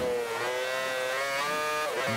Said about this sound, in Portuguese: é porque eu quero que vocês curtam o som do motor